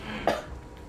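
A single short cough from a game character choking on smoke in Marvel's Spider-Man, set in a smoky textile factory. It is a brief, close burst in an otherwise quiet moment, with no talking.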